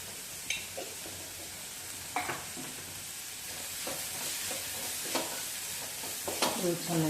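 Tomato chutney from North Karnataka frying in a pan and being stirred, a constant close sizzle broken by a handful of sharp spoon scrapes and taps against the pan.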